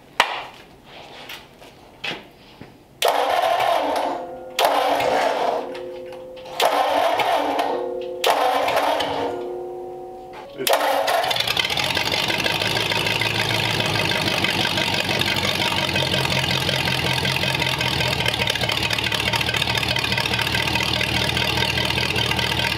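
A hopped-up Mercury flathead engine for a 1939 Mercury coupe turns over in several cranking bursts on a shop run stand, then fires and runs steadily, loud and close, a rough rumbling idle.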